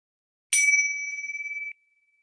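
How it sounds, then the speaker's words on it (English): A single meditation bell is struck once, its clear ringing tone shimmering and fading slowly over about a second before cutting off. No voices. "I'll begin with ringing the bells again"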